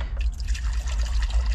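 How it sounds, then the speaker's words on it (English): Warm water pours into a container, a short, close, continuous splashing trickle at a steady level. "I'm gonna take warm water from down here."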